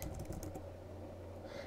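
Keys clatter in a quick, light burst on a computer keyboard near the start, then fade to a quiet hum as the typing stops.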